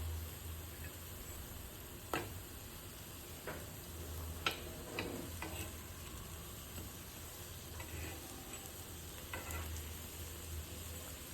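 Upwas tikki frying in a pan over a gas flame, a quiet steady sizzle with occasional sharp ticks and pops scattered across it, no voices.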